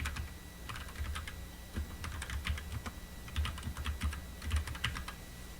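A computer keyboard clicks in quick, uneven bursts as a two-line festival title is typed into graphic design software, the keystrokes close and moderately quiet and heard alone.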